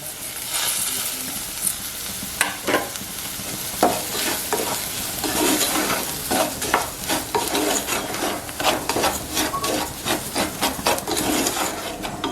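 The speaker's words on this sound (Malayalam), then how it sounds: "ഇനി നമ്മളിലേക്ക് നമ്മൾ വറുത്ത് വെച്ചിരിക്കുന്ന ചാമ ഇട്ട് കൊടുക്കാം." Roasted little millet tipped into a pan of nearly cooked vegetables for upma and stirred with a wooden spatula, giving steady scraping, rubbing strokes over a faint sizzle, close and alone with no talk.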